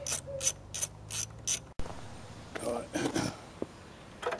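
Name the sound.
ratchet loosening car battery clamp bolts, Honda Civic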